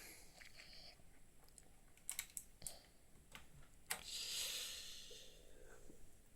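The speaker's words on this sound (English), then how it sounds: "I should probably turn it off before I type on it" Keys clack on an 8BitDo Retro mechanical keyboard in quick, irregular bursts, close and fairly quiet, with a soft hiss in the background.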